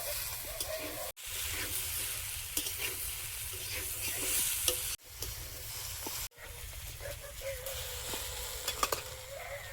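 Raw tomato chachchari with cumin and chili paste sizzles steadily in a pan while it is stirred, with scraping strokes over a constant fry and a few abrupt breaks.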